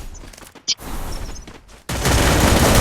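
Gunfire in the mobile battle-royale video game Free Fire, with a few sharp shots early on and then a loud, dense burst of rapid firing that continues to the end.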